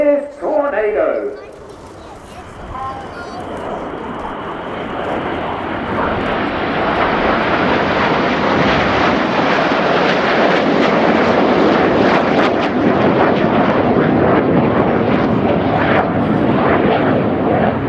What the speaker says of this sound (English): This is Tornado.